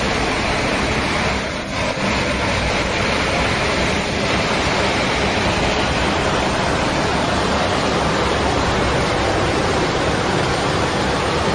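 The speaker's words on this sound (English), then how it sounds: "A storm surge pounds the coast." A storm surge of immense waves pounding the coast, a dense, loud, unbroken roar of surf and rushing water filling the whole stretch, with no voices.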